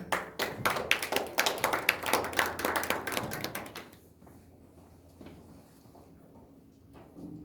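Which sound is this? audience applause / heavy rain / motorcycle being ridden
audience applause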